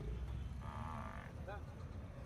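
At a buffalo market in Sindh, a faint buffalo lows once, then another gives a short low, over a dull crowd murmur.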